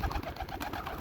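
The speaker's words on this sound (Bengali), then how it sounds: "সে আমার অনেক সুন্দর একটা পোষা কবুতর।" A pet pigeon coos softly and briefly, a low rounded murmur close by with no voices.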